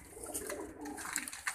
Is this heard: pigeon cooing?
yes